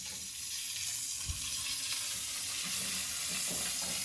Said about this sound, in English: If you just stir in the fat and the drippings